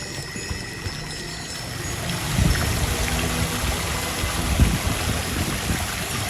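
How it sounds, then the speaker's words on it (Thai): Steady rushing of a waterfall on the grounds of a Thai temple, Wat Mai Khok Mai Daeng, a continuous broadband wash of falling water with a slight swell midway, heard alone without voices. "เดี๋ยวตอนนี้เราดูน้ำตกกันก่อน"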